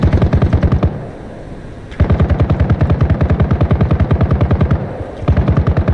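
Sustained rapid bursts of heavy machine-gun fire from a Cobra attack helicopter in Arma Reforger, loud and close, broken by a brief pause before firing resumes in long rhythmic volleys.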